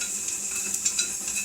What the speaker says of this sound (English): cooking or frying for about 10 minutes covered